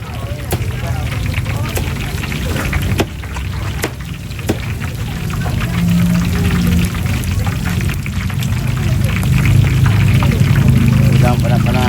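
Shrimp frying in hot oil at a Ramadan bazaar stall in Gurun, Kedah, a steady crackling sizzle running throughout under busy crowd chatter and nearby talk.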